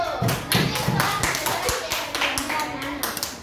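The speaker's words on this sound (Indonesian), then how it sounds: "tepuk tangan untuk Kak Beliau" A class of schoolchildren claps for a presenter during a lesson on electricity generation, a busy scatter of quick claps mixed with children's voices and chatter.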